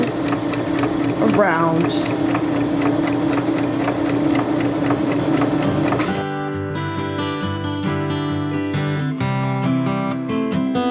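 A sewing machine stitches in a steady, loud mechanical whir, then shifts into a brief, choppier run as it goes forward and back, with a voice speaking over it.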